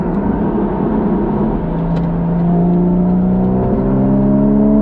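A Porsche 981 Cayman GTS engine hums steadily with a smooth, rising tone as it accelerates, heard from inside the cabin with no talking.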